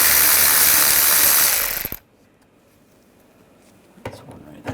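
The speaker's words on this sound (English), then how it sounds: "Use a 8mm socket. We're going to take some of these bolts out on the side." A ratchet fitted with an 8mm socket removes side bolts near the inner fender well of a 2009-2010 BMW 535i xDrive, giving a loud, fast clicking burst up close, then quiet and a few faint clicks.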